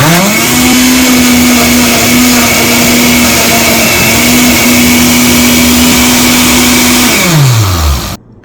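A countertop blender runs on its Smoothie Extract program, a loud steady motor whine holding one pitch for about seven seconds before spinning down and cutting off abruptly at the end.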